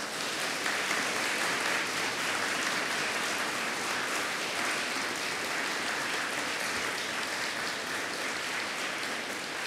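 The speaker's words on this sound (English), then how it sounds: "say a big thank you and a round of applause to everybody who's helped you to get to this point." A standing graduation audience at a University of Manchester ceremony applauds continuously, a dense even wash of many hands clapping that holds steady the whole time.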